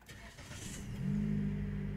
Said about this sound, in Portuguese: vamos desligar ela e vamos dar a partida no carro